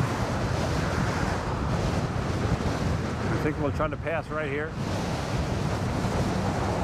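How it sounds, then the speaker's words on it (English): Strong gusty headwind at Fort Myers Beach roars continuously into the microphone while riding a Gotway MSX 100V electric unicycle, a loud, close, unbroken rush of wind with someone briefly speaking over it. "now we just spun back into a ferocious headwind"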